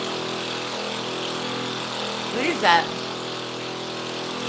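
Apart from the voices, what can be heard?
mini bike engine running, sounding like a jackhammer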